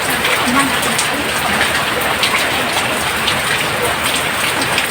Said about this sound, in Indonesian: Soalnya lagi hujan.